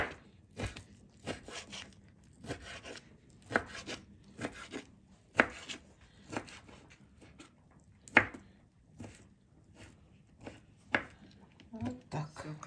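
A dull kitchen knife chopping sausage into small cubes on a board, sharp irregular knocks repeating every half second or so, close and alone without talk.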